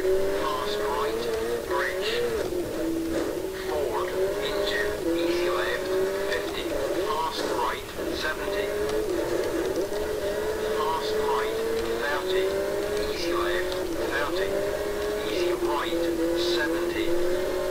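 A rally car engine in the driving game Richard Burns Rally revs steadily, rising and falling with gear changes at moderate volume, while a voice talks over it throughout.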